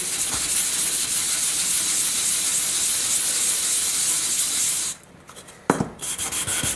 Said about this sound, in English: just basically sand all the sides of the joiners with this 400